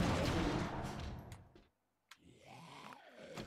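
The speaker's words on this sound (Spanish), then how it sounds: "voy a darme a tiros con estos" In the video game 7 Days to Die, a burst of gunfire crackles loudly, followed by a brief silence and then a few more sharp, fainter shots and clicks.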